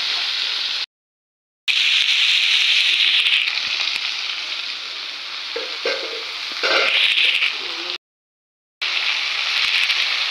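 Potatoes fry in a pan with salt and turmeric, giving a steady, close sizzle that swells and eases, broken by two short silent gaps.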